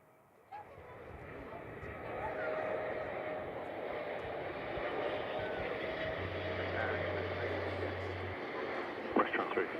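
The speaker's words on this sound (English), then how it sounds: "Enjoy the 777 as they head in from Doha this morning." A Qatar Boeing 777 arriving from Doha drones faintly in the distance as a steady, broad jet roar that swells slightly toward the end.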